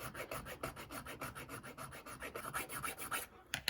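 A metal file rasps back and forth across an HO scale steam engine chassis, widening it to fit an axle; quick, regular, close scraping strokes, faint overall, ending with a couple of small knocks.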